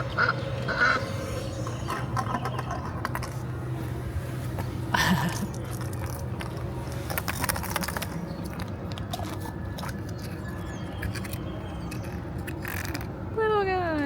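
Quacks and honks from a mechanical egg-laying toy goose at a European theme park, over a steady low hum, with a rising whistle near the end.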